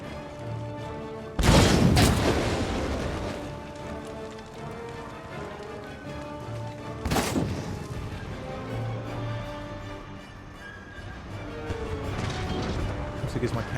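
Cannon fire booms through an Empire: Total War battle as two heavy, rumbling blasts land several seconds apart over a continuous bed of battlefield noise.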